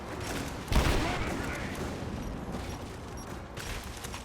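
Gunfire and grenade blasts from the video game Rise of the Tomb Raider, a sharp burst followed by rumbling rattling fire that fades and continues faintly in the background.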